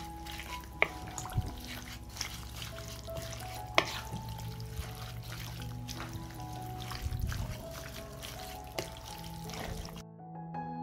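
Olive oil, 9% vinegar and salt being stirred together for a paprika marinade, a steady wet mixing sound with scattered clinks and splashes running throughout, close and moderately loud, with no voices.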